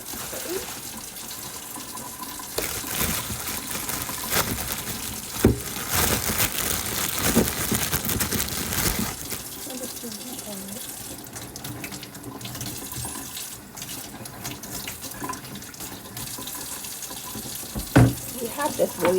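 Running tap water rinsing vegetables at a kitchen sink while preparing homemade chicken soup, a continuous close splashing stream with occasional handling clatter and a voice speaking now and then.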